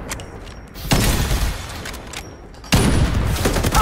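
Loud, close gunfire bursts in the video game Farlight 84 come as dense rattling volleys, with a short pause between two heavy stretches of shooting.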